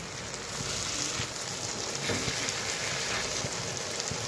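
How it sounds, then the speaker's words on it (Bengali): Foli fish frying in a pan, with water just added and the lid lifted, gives a steady, dense sizzling hiss that runs unbroken at moderate loudness, with no voices. "মাছটা ভাজা ভাজা হয়ে গেছে।"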